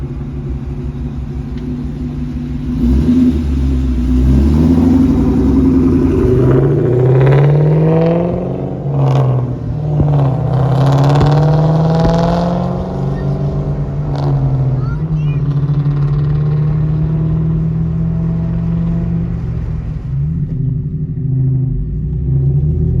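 A Ford Mustang GT passes at night with a deep, loud V8 rumble that swells after a few seconds and holds, its pitch rising and falling through rev changes, then eases off near the end.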